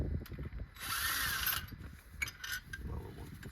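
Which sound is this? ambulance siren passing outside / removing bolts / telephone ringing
removing bolts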